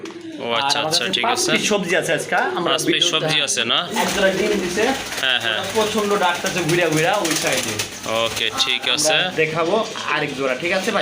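Racer pigeons coo close by in a pen, their soft throaty calls repeating steadily throughout, with a person talking over them almost continuously.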